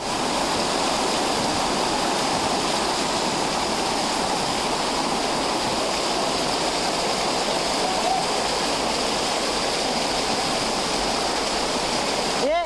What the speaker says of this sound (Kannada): ನೀರು ಜೋರ ಐತೆ ಹೇಳು